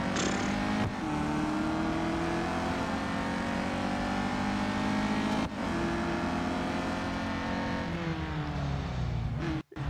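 A race car engine from Real Racing 3 drones loud and steady, its pitch climbing through the gears with brief dips at each shift and a sharp cut near the end.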